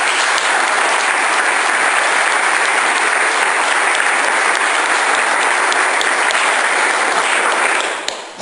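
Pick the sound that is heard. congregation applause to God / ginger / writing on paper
congregation applause to God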